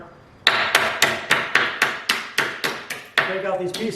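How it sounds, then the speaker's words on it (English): Hammer striking wood to knock out waste pieces for a lap joint on a workbench leg, about ten sharp loud blows in a steady, slightly quickening rhythm, close up with no talking. "Now just use my hammer to"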